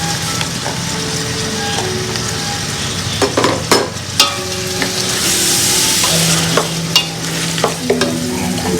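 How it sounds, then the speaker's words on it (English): Tomatoes, chilli, coriander and mint leaves fry in a pan for egg biryani, giving a steady sizzle broken by repeated knocks and scrapes of a stirring utensil. "Now I'm going to add the tomatoes and the chilli together, and also a little bit of the coriander leaves and mint leaves"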